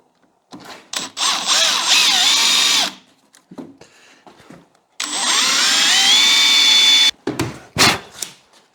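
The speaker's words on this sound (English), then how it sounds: "that lets me drill in the middle" A power drill whines in two long bursts with short pauses between, pitch shifting as it bites into the metal crankshaft and gear of a small race engine, followed by brief clanks and handling.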